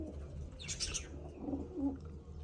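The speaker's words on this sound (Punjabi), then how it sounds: "ਆ ਸਾਰੀਆਂ ਕਬੂਤਰੀਆਂ ਆਪਣੀਆਂ ਵੱਡੀਆਂ ਆ" Domestic pigeons, a group of adult females, coo softly with low, rolling calls, mixed with a brief burst of higher chirping; the sounds are quiet and close with no talking.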